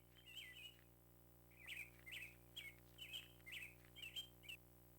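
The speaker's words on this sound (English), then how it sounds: "There's just birds, and that's the only sound." Bird chirps from the video game My Boyfriend - Summer of My Life, a short series of bright, clear tweets in irregular bursts over a faint steady hum, no voices.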